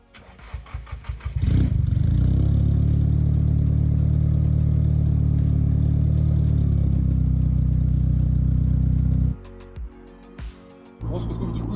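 Nissan Silvia S14 drift car on the road: the engine fires up, settles into a loud, steady close drone for several seconds, then drops off sharply, with a voice briefly present.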